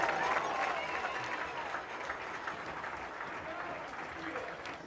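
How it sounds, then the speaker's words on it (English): Applause from a crowd at a high school football game, for the 1997 state champion Valley View team. A steady, broad wash of clapping runs for the whole stretch, with crowd noise and talk mixed beneath it. "Let's give these young people a big round of applause."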